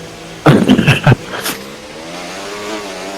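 Race cars at Zandvoort in a sim racing game: a short loud engine roar passes close by, then a quieter fading engine drone hums on, with no speech.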